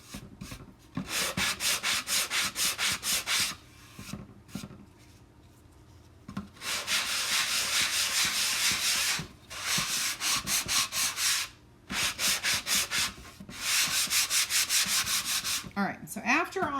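Steady, rhythmic strokes of sanding on wood, a harsh scratchy rasp repeating in long runs with brief pauses between sessions. Close and fairly loud.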